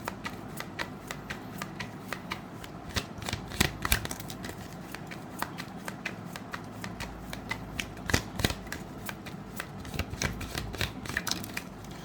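Tarot cards being shuffled by hand in a quiet room, a long run of soft rapid riffling flutters with sharper snaps now and then, fairly faint and close, no voices.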